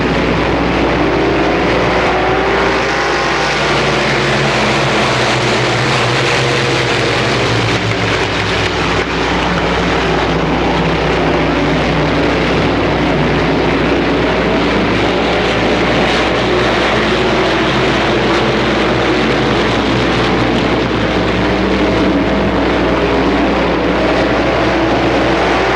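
Super late model stock cars racing on a track at a 1994 twin 20-lap event, a dense continuous engine roar with layered drones of several cars that holds steady and loud throughout, with no voices.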